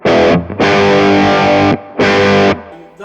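Heavily distorted electric guitar through a Kemper profiler with lead boost engaged, three loud sustained chords or notes cut off sharply between them, close and alone.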